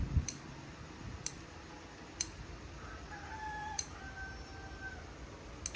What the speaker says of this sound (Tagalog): May tilaok na yung manok